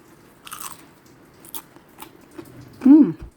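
Crunchy fried siomai being bitten, with a few soft crisp crunches and one sharp, louder crackle near the end, close up against quiet room noise.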